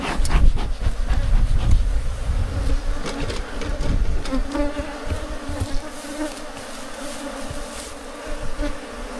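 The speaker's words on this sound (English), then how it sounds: "Yeah, the bees are quite defensive." A dense, loud swarm of defensive bees buzzes continuously up close around a hive during inspection, many wings droning together with shifting pitch throughout.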